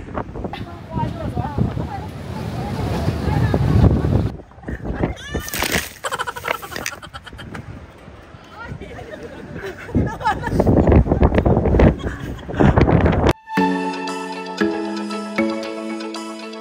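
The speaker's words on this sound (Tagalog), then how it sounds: "sobrang lakas ng hangin" Gusty wind roars loudly against the microphone in Sapa, Vietnam, with a voice talking over it and a cat meowing at points.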